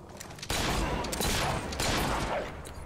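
Gunfire in Fable 3, a loud, close burst of rapid shots that starts abruptly and rattles on for a couple of seconds, with a second volley partway through.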